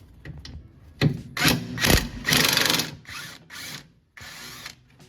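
Impact wrench loosening a bolt on a 2018 Honda Civic Si during a lowering-spring install: several short, loud buzzing bursts in quick succession, with quieter clatter of tools and parts between them.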